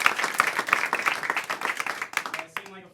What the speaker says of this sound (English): Applause for Corey right there.